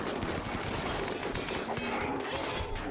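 Gunfire in the colony game RimWorld during a raid, a dense, continuous crackle of shots and bursts over a steady noisy battle din, fairly loud throughout with no pauses.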